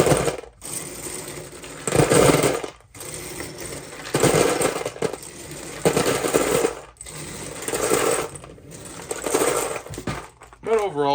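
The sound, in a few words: Lego pieces being dumped into a box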